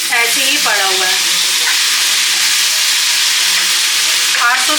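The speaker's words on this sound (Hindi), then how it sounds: "अभी मैंने भिंडी चढ़ाई है, बिल्कुल ड्राई भिंडी, मसाला भिंडी" Dry masala okra (bhindi) fries in a pan, a steady loud sizzle filling the whole stretch while a utensil stirs it, with a few faint bird-like chirps above the frying.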